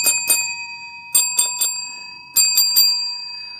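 A colorful 3.3-inch service call bell, pressed in three bursts: two quick dings, then three, then three, each a bright ringing chime that decays, close and clear with no talk.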